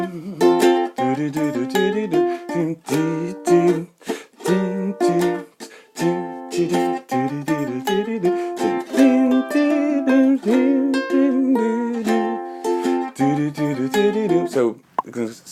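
A ukulele plays a riff as bright, rhythmic plucked and strummed notes that run steadily throughout.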